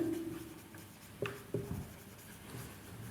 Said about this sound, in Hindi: तो यहाँ पर हम लिखेंगे